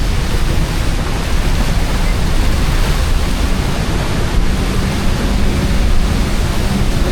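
A waterfall in Switzerland with water rushing down at great force and spray flying outward, heard as a loud, steady, dense roar that fills the whole clip and drowns out everything else, with no voices.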